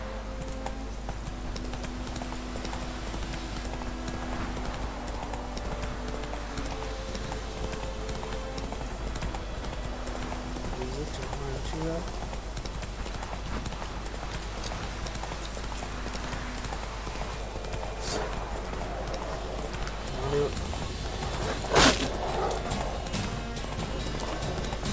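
Roach, the horse in The Witcher 3 game, trots with a steady clip-clop of hooves over a constant low hum. A brief louder knock is heard near the end.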